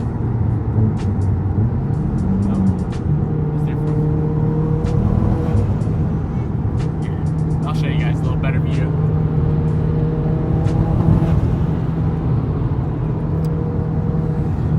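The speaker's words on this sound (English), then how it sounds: "now my car is running like shit" A car engine running rough, its steady low drone rumbling throughout while someone talks close by.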